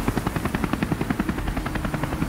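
A supply helicopter arrives at Tengboche monastery in Nepal, its rotor beating in a steady, loud, rapid thump throughout, with no voices.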